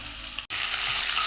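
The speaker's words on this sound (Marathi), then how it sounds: "आपण लसूण आणि अद्रक टाकलेलं आहे हलकंसं ब्राऊन झालेलं आहे" Garlic and ginger fry in a pan until lightly browned for a hotel-style misal, giving a steady, close sizzle with a brief dropout partway through and no talking.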